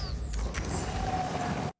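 A layered sci-fi grapple gun pull effect blended with a winter sled scrape, dragging a drone in an Arc Raiders trailer rescore: a dense, continuous mechanical whirring drag at steady loudness that cuts off abruptly after under two seconds.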